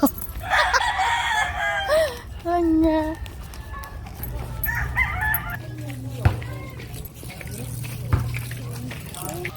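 A rooster crows and hens cluck amid a noisy farmyard, with people talking over the bird calls throughout.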